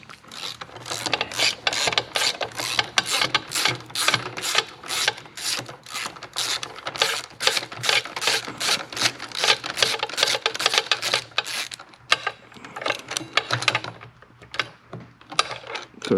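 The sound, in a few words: socket wrench removing Harley-Davidson starter bolts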